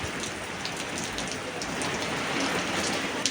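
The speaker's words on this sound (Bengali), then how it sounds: "দেখো কত জোরে জোরে বৃষ্টি হচ্ছে, দেখছো? সেই বৃষ্টি হচ্ছে, সেই জোরে জোরে হাওয়া হচ্ছে" A downpour of heavy rain with strong wind hammers surfaces nearby, producing a constant loud wash of noise with scattered droplet impacts and no speech.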